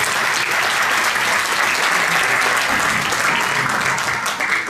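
Dense, steady applause from an audience at a children's rights anniversary arts event, a loud continuous wash of many hands clapping that holds unbroken for the whole stretch.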